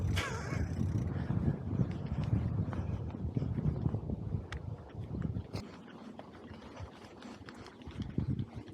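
Wind buffets the microphone during a ride on a Breezer Radar X Pro bicycle, a continuous low rumble with gusty swells and scattered small knocks.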